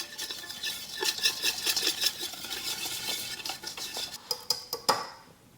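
Chicken drumsticks being mixed by hand with olive oil and spices in a bowl give off a run of wet squelching and clattering stirring noises, up close and fairly steady, with a few sharper knocks near the end.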